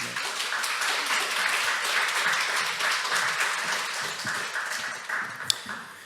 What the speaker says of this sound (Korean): 우리 박수로 한번 맞이할까요?